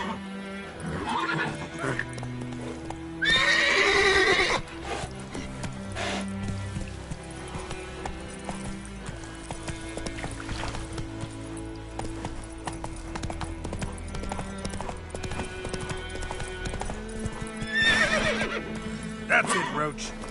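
The horse Roach in The Witcher 3 video game gives two loud neighs and clip-clops along with steady hoofbeats, under game music and effects while someone talks.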